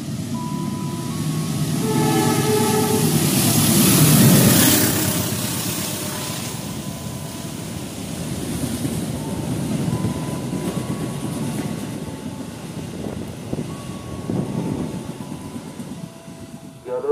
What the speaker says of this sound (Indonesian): kereta api akan melintas langsung jalur 1